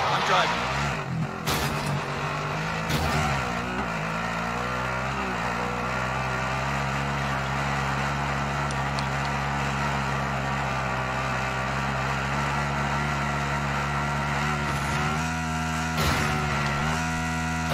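Vehicle engine in Call of Duty Warzone, a steady droning motor running throughout with a constant low hum, loud and close, with occasional brief bumps and short bursts of voice chat over it.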